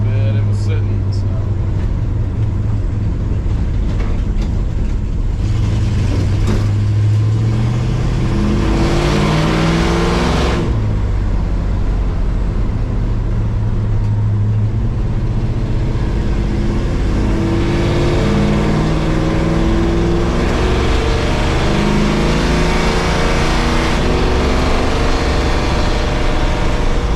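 A 1969 Plymouth Barracuda with a 360 engine idling loudly while warming up after sitting, a steady deep rumble with lumpy pulses and rising, falling revs throughout, close and continuous.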